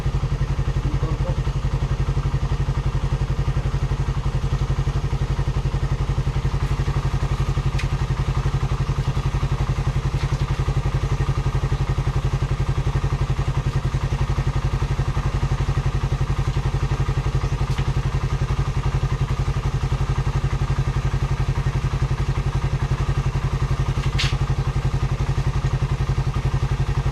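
A motorcycle engine idles steadily in a low, continuous rumble, with a few faint clicks and taps over the drone.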